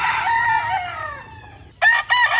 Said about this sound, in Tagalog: napakagwapong manok